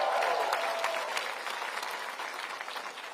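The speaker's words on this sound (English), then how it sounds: "Give him a round of applause." Applause from a crowd at a political conservative rally in Woodstock, dense clapping that starts strong and gradually tapers off over a few seconds, heard in a large indoor gathering.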